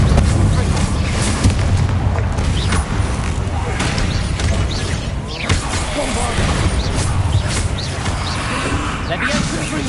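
Fiery blasting-spell explosions in Hogwarts Legacy, a continuous dense rumble of booms and crashes with spell effects layered through the full stretch, loud and busy throughout.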